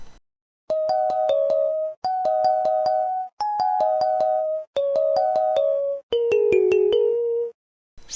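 An Arduino piano tone generator sounds five bursts of bright, pinging ringing tones. Each burst holds a quick run of pitched notes, separated by short silences, clean and up close.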